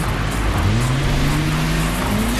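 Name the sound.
Nissan GT-R driving on the race track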